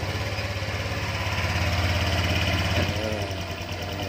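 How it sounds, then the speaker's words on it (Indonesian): A Honda Vario 125 FI scooter engine idles close by, a steady, loud, throbbing rhythmic putter that stays even throughout, with no talk. "sekarang kita mesin itu hidupkan dulu ya"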